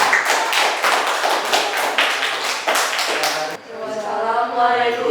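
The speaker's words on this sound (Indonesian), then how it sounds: "Tepuk tangan." A school audience claps during an anti-bullying campaign event, a burst of quick close hand claps in a brisk rhythm that stops abruptly, followed by voices speaking together.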